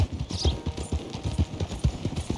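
Hooves of a rider's main horse clip-clop in a brisk, even rhythm in Red Dead Redemption 2, close and clear with no talk.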